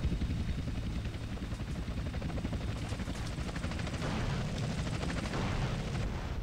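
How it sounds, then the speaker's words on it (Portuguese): Helicopter rotors chop steadily under bursts of gunfire in the video game GTA San Andreas, a dense, loud mix of whirring blades and rapid shots that continues without a break. "e atirar nos helicópteros."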